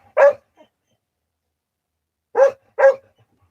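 A deaf dog barks close by: one sharp bark, a pause of about two seconds, then two more quick barks, with silence in between.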